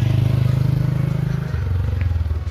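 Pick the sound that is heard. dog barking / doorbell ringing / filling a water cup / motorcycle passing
motorcycle passing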